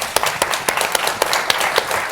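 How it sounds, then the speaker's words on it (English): Audience clapping at a sustainable development lecture event, a moderate patter of hands with distinct sharper claps standing out, steady and brief without cheering. "A big round of applause."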